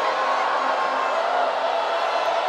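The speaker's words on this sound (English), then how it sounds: "Very loud Singapore crowd" A loud crowd at a Singapore Slingers basketball game against the Hong Kong Eastern Long Lions roars steadily throughout, a dense sustained wall of cheering and noise with no breaks.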